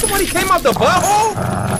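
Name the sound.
dog barking in a video game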